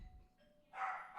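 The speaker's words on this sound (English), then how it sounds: "the doorbell rings, the dog goes insane" Doorbell sounding at home in a short two-tone chime, faint and brief, with a low thump before it and no clear barking.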